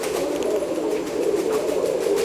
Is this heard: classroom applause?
no